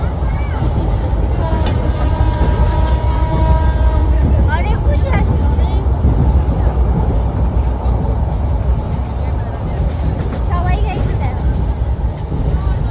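Constant low rumbling and rattling of a moving passenger train carriage fills the background while people chat nearby inside the train.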